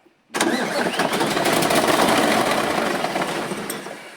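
A Mitsubishi 8M21 diesel engine, just bled after a top overhaul, cranks and catches almost at once, then settles into a loud, steady running clatter close by.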